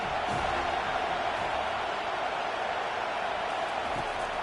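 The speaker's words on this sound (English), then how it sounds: "Decibels rising as the crowd gets behind this defense on third down." A college football stadium crowd roars steadily for the defense on a third down, a broad continuous wash of cheering noise.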